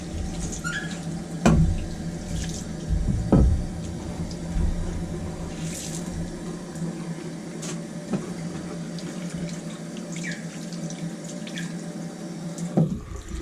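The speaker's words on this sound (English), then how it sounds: "we'll just go ahead and wash our stone off." Tap water runs into a sink while a knife-sharpening stone is rinsed off on a 2x4 sink bridge, a steady close splashing stream broken by a few louder knocks and clunks of the stone being handled.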